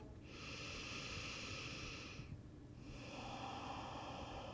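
Slow deep breathing during yoga practice, one long airy exhale followed after a short pause by another drawn-out breath, close and soft.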